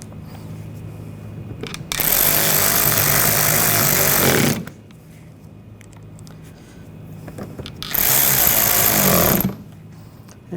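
A power tool snugging down bumper trim screws on a Nissan Rogue, two loud bursts of a couple of seconds each separated by a quiet pause, close up and alone.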